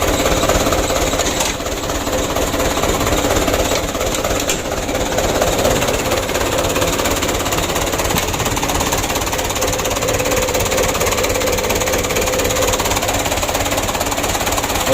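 A Mitsubishi Canter 125 PS truck engine, noted as burning oil, runs with the cab raised, giving a steady, dense knocking clatter close by and without a break.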